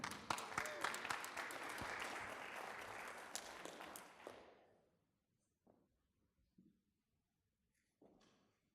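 Audience at a small business gathering claps for presenter Tim, a dense burst of applause for about four seconds that fades out, followed by a few scattered faint knocks and rustles in near silence.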